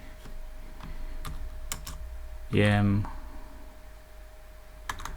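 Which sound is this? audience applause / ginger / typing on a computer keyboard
typing on a computer keyboard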